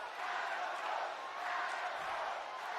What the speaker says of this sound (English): The crowd going crazy for Adam Cole here tonight.